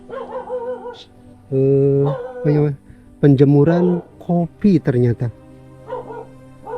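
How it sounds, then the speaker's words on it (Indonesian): A dog howls in the background at a hillside coffee grower's home, with drawn-out wavering cries that rise and fall in several bursts. A person talks nearby. "ada suara lolongan guguk di belakang"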